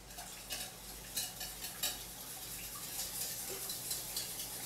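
A utensil stirs canned mushroom soup and water in a bowl, making soft repeated scraping and light clinks against the bowl, with no voices.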